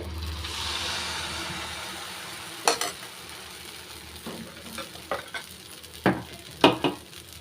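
Coconut dosa batter sizzles on an oiled pan in a home kitchen, a steady soft crackle of frying, interrupted by several sharp clinks and scrapes of a spatula against the pan.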